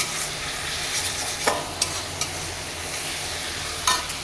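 Kochur loti and spices sauté in a silver kadai, a constant hissing fry under a few sharp stirring scrapes, close and steady, with no voices.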